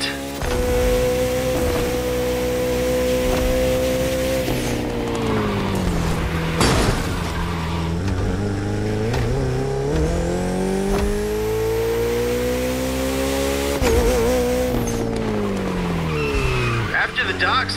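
Racing engines from sports cars, including a Bugatti, roar continuously in a Crew Motorfest race, with the revs rising and falling, tires squealing, and speech over the top.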